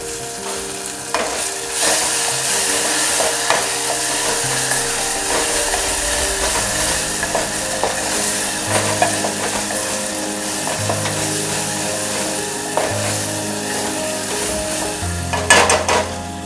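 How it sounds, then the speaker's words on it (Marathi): Ground onion, garlic and tomato paste frying in hot oil for a Maharashtrian pea curry, a loud continuous sizzle and crackle close up, with occasional scraping and a louder clatter near the end. "नंतर आपण हे वाटण करून घेतलेलं आहे कांदा लसूण टोमॅटो ते टाकूयात"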